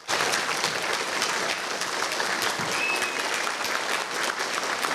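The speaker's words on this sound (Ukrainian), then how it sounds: "актова зала наповнюється аплодисментами" A school assembly hall fills with applause at a last-bell ceremony, thick continuous clapping from a large crowd, loud and even throughout, with no speech rising above it.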